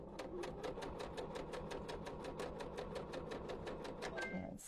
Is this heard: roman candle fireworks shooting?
no